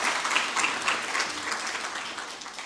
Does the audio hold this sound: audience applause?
yes